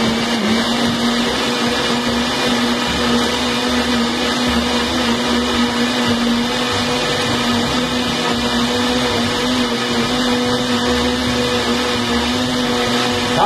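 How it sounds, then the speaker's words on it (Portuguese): A blender whirs steadily for over ten seconds, blending organic passion fruit juice with sugar, a loud, even motor drone that continues without talk. "Para adoçar agora é só bater."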